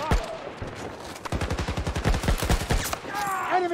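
Gunfire in Battlefield 2042, with rapid automatic bursts of close, loud shots in a fast staccato run, plus scattered single reports and battle noise.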